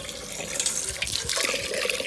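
A steady, rushing gush of water pours out nearby, splashing continuously with a broad hiss and no break.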